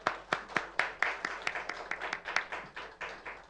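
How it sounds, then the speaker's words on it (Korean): A small church congregation at a tenth-anniversary thanksgiving service claps in a loose, uneven rhythm, with distinct individual hand claps sounding at moderate volume through a quiet room. "우리 하나님 앞에 영광의 박수 올려드릴까요?"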